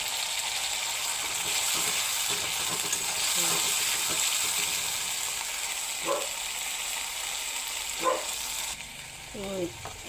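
Spinach paste frying in oil with lightly browned onions in a pan gives a soft, steady sizzle and hiss at low volume, with a few short bursts of speech toward the end.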